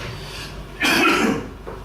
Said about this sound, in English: I was worried that I would cough in front of you, but I've done it now